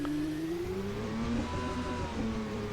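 Car engine in the Assetto Corsa Rally racing game, revving steadily and then easing into engine braking as the throttle lifts, a continuous droning tone that drifts slowly in pitch, loud and with no voices.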